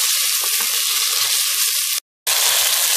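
Tomatoes browning in a hot pan for beef curry, a loud, steady sizzle close by with faint stirring knocks, cut off by a brief silent gap before the sizzle resumes.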